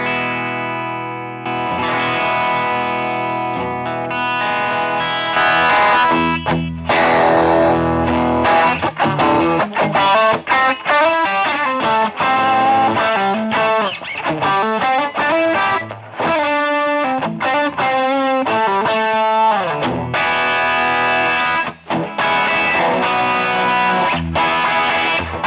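Electric guitar driven through Morning Glory and Tube Screamer overdrive pedals, playing loud, saturated riffs and chords with a rock rhythm and brief pauses, alone and close.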